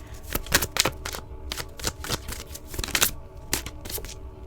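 Tarot cards are shuffled and drawn by hand in a series of crisp, uneven riffles and slaps, close and moderately loud, with no talking over them.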